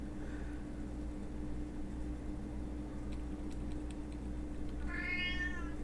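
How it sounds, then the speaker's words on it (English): A domestic cat lets out a single drawn-out meow near the end, heard over a loud, constant engine-like hum, with a fainter mew earlier on. "That's what my cat is saying."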